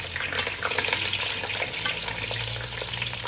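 Mustard seeds, cumin, green chili and onion fry in oil in a pan for a fish pulusu curry, making a steady close crackling sizzle with a little stirring and no talking.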